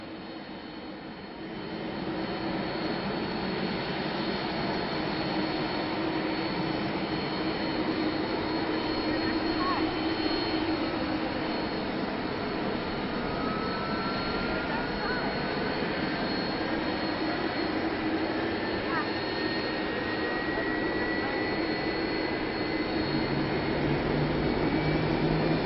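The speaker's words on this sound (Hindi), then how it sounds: "एयरफोर्स 1 अमेरिका के सेंट एंड्रयूज एयरबेस से रवाना हो रहा है" Air Force One, a jet aircraft, departs from Andrews air base in America. Its engines give a steady, loud roar that holds throughout, with a faint rising whine partway through.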